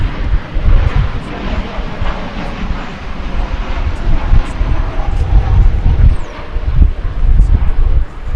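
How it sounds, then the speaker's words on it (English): An American Airlines Boeing 737-800 arriving at DFW Airport from Querétaro, its engines giving a steady broadband roar with low rumble and wind buffeting, fairly loud and continuous throughout, with no talk. "From Querétaro in Mexico is coming flight 2341 American Airlines to"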